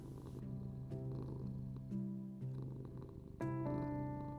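A cat purrs steadily and softly up close, a low rumbling drone that swells and settles with each breath, with a brief louder stretch near the end; no talking.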